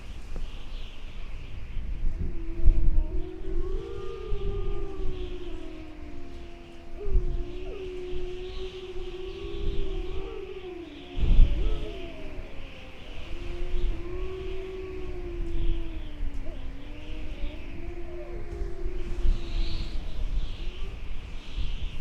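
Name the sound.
wolf pack howling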